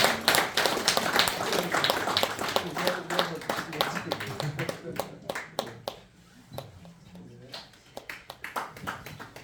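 A temple congregation claps together in a dense, rapid burst of applause that thins toward the end into scattered claps, heard close, with some talk mixed in.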